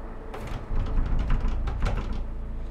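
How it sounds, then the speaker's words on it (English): A door closing in a short horror film, a muffled thud and rattle followed by a few dull knocks and scrapes, close and moderately loud against a low room hum. "They went to two different rooms and closed the door?"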